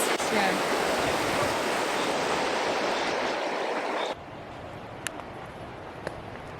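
Cold mountain river in Triglav National Park, Slovenia, rushing loudly and steadily. The roar cuts off abruptly after about four seconds, leaving quieter ambience with a couple of faint clicks.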